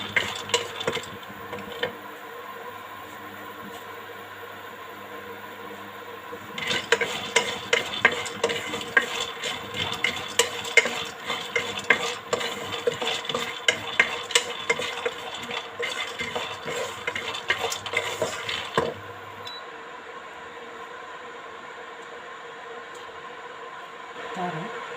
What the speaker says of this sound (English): So I have to fry them fast.